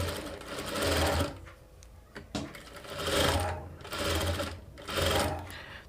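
Sewing machine stitching a princess cut blouse, running in repeated bursts of fast rattling stitches separated by short pauses, close and fairly loud.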